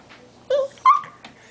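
A miniature pinscher dog whimpers in two short, high, tonal whines close by, with a faint third whimper after them and no voices.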